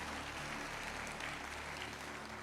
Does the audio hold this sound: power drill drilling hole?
no